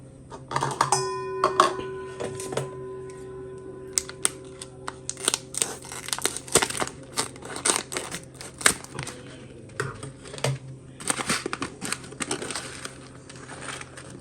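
A vacuum-packed bag of sticky rice being cut open: a sequence of crinkly plastic rustles, snips and handling clicks, close and irregular, with brief pauses between bursts.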